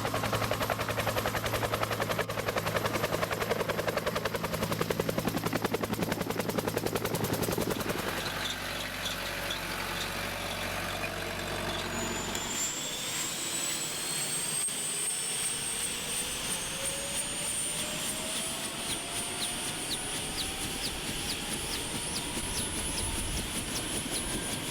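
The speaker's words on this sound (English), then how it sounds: "Even if people don't associate it with the Vietnam War, they recognize a Huey." Bell UH-1 Huey helicopter engine and rotors, a loud continuous turbine whine with rushing rotor noise that shifts in pitch as it spools, heard up close and steady throughout.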